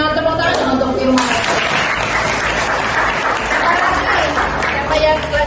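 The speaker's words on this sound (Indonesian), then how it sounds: "Tepuk tangan untuk Firman" A class in a room claps in steady, lively applause, loud and close, with some voices underneath.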